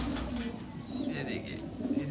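Blue-band pigeons in a rooftop loft with a breeding setup give soft, repeated low coos that overlap in a gentle rhythm, close by and fairly loud, over faint background noise.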